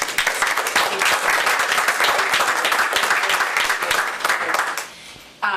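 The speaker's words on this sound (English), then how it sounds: "a round of applause for Sheriff Waldera." A room full of people at a school board meeting applauding steadily and loudly, a dense wash of clapping that fades out near the end.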